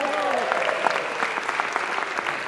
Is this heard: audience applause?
yes